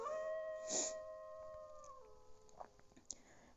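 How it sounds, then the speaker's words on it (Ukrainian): Wolf howl: a long, clear, sustained tone that holds steady, then drops in pitch partway through, with a few faint clicks and knocks after it, heard close and alone. "Вовки розмовляють, їхня мова виття"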